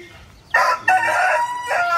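A rooster crows loudly nearby, a drawn-out call that starts abruptly and carries through the short clip, with hens faintly around.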